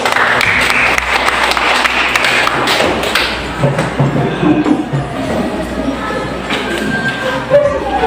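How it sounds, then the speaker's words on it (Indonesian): Classroom applause from students after group presentations, a dense, steady wash of clapping with thuds and taps that carries on for several seconds and gradually thins out. "Baik, kita berikan tepuk tangan."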